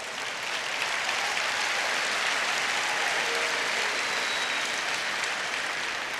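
Steady, full applause from a large audience at a school district convocation fills the whole stretch evenly, with no pauses and no voices over it.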